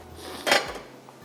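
A lid is set on a cooking pan, giving a single close metallic clank that rings briefly, followed by a faint softer knock as it settles.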